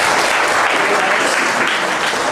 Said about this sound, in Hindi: Thank you, Tali बजाइए।